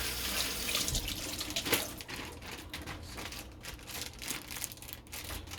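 Tap water runs steadily into a sink while a Ziploc bag is rinsed beneath it, a continuous close splashing hiss with slight crinkling shifts and no talking.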